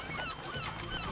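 A bird honks in a Nintendo Switch 2 video game, a steady goose-like call lasting about a second, loud and close with no talk over it.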